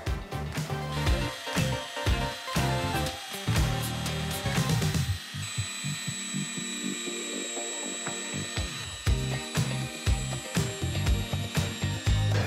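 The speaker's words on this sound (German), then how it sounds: "Ich habe die Oberfläche jetzt hier bis auf eine Körnung von 6000 runtergeschliffen." Concrete floor surface being ground smooth with a grinder at fine grit, a steady loud machine whine with tonal hum, interrupted by clattering and a brief quieter stretch before the grinding resumes.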